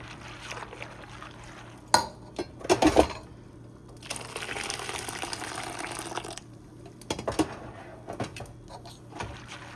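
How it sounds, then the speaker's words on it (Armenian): Wet scraping and sloshing of thick batter being stirred in a pot with added boiled water, with a few sharp clunks from the utensil, in short bursts. "կխառնենք։"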